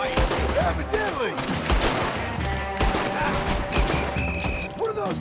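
Rapid gunfire crackles in Red Dead Redemption 2, a dense run of overlapping shots with scattered game voices talking through the volley.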